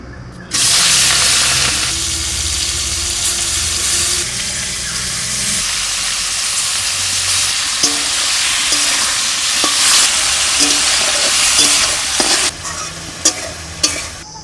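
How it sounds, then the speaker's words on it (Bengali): Fish rubbed with salt and turmeric fries in mustard oil, giving a loud, close sizzle that starts abruptly and runs on, with scraping stir sounds and a few sharp clinks toward the end. "মাছ কটা একটু ভাজা করে নেব।"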